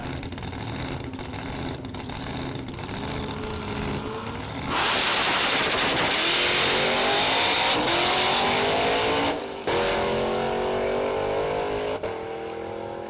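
The race car Blasphemi launches hard at a drag strip in Bowling Green, a loud steady engine drone surging into a roaring full-throttle pull with rising pitch, a brief dip as it shifts, then continuing strong.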